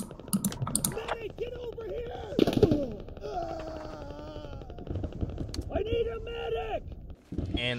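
Gunfire in the online shooter Squad, with sharp shots and bursts scattered through the clip under excited talking from players.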